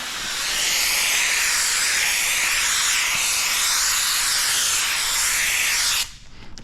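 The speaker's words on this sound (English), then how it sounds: "Then we'll put some steam." A steamer blows onto paint protection film on a Harley Davidson side panel cowling, a loud, close, continuous hiss of steam holding steady for about six seconds before cutting off abruptly.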